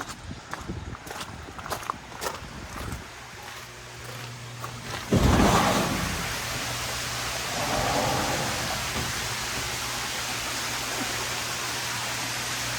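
Heavy monsoon-like rain pours down outdoors by a fish pond. A dense, steady hiss follows a few sharp knocks and a sudden loud swell, then stays broad and continuous to the end.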